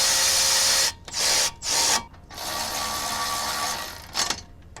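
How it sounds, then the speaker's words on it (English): A tool tightens the brake caliper bracket bolts on a Mercedes-Benz CLA250 front brake in several loud, steady bursts of whirring and grinding with short pauses between them, and no talking. "Now I'm going to tighten these brake caliper bracket bolts up to, just enough."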